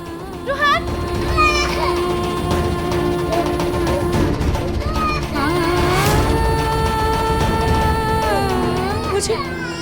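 An infant cries in a Hindi television drama scene, its wavering wails coming in bursts over dramatic background music and a steady bed of sound.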